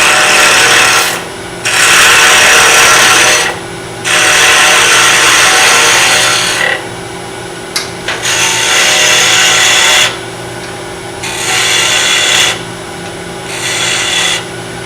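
Hand tool scraping and rasping against a small wooden miniature vase spinning on a wood lathe, in several loud bursts separated by brief pauses, with a steady motor hum underneath.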